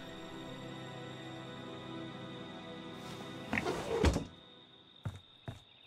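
Drawers in Friday the 13th: The Game slide and thump shut in a short rattling clatter, followed by a few sharp knocks, heard over a constant humming game soundtrack.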